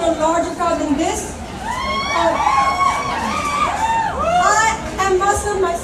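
A large crowd at the Women's March rally in New Orleans in 2017, a dense wash of overlapping voices, shouts and cheers that swells and dips continuously, loud and close all around.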